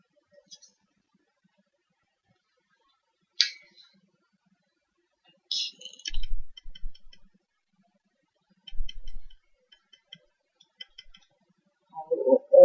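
Sparse clicks and taps of a computer keyboard and mouse in a quiet room, a few isolated clicks followed by short bursts of key presses.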